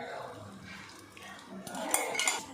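Puttu amudhu being stirred in a pot after jaggery syrup, grated coconut and boiled milk go in, giving soft scraping and clinking of a utensil against the pot that grows busier toward the end, with faint background voices.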